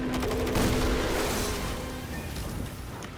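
Gunfire in Destiny 2 while playing a Titan: loud, dense bursts of rapid shots and booming impacts rolling on continuously, easing slightly toward the end.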